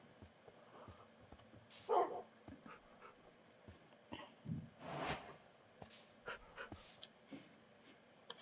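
Dog in Minecraft giving a few soft barks, yips and whimpers scattered over several seconds, fairly quiet against faint game background.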